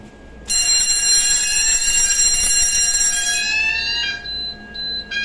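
A fire alarm control panel bell rings loudly and continuously during a test, a bright metallic ringing that starts abruptly, holds for several seconds, then fades into intermittent beeping tones.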